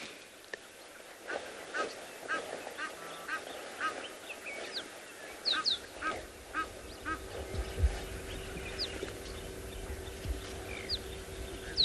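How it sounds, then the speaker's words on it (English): Egyptian geese honk and call repeatedly on a South African safari morning, with mixed bird calls scattered throughout, and a low rumbling background noise joins partway through. "the Egyptian geese are making most of the noise"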